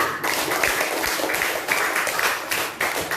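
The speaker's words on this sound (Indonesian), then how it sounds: "beri dulu tepuk tangan untuk Dela" Students in a classroom clap for a classmate, a dense, steady round of applause lasting a few seconds with a few voices mixed in.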